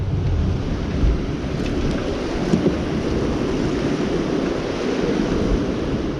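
River water rushes through the gates of a hydroelectric dam on the Ohio River, a loud, steady broadband roar that holds constant throughout with a faint wind-like rumble.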